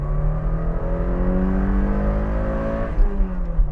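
A Toyota sports car engine revs steadily with a rising, raspy tone toward a 7,000 RPM redline, held high for several seconds, then dips and climbs again, loud and close.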